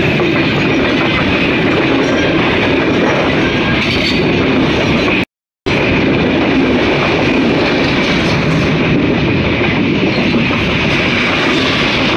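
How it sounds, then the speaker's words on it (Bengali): A train thunders past very close to people walking beside the track between Mouchak and Kaliakair stations in Bangladesh, a loud, continuous rushing roar with rattling wheels, briefly cut by a moment of silence midway. "হ্যাঁ ট্রেনের শব্দ দেওয়া যায় পাইলাম"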